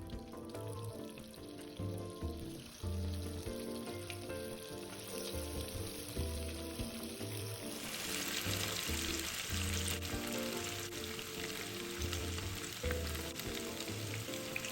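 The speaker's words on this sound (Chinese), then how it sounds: "油热后，再分批放入油炸" Marinated chicken pieces for Szechuan spicy chicken deep frying in at least 500 ml of oil over medium heat, a steady close crackling sizzle that runs the whole time with no talking.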